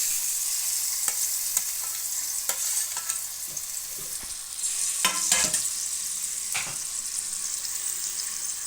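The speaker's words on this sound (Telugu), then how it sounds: "మామిడి కాయ ఉడకబెట్టుకుని అది వేసేసుకోవాలండి ఆయిల్లోకి." Boiled mango pulp goes into hot oil with a loud, continuous sizzle. Sharp stirring scrapes and clinks strike repeatedly on top of it, and no one speaks.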